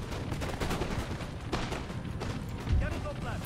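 Cannon and musket fire in the video game Empire Total War crackles and booms continuously as dense battle noise, with one heavier thump near the end, while someone talks over it.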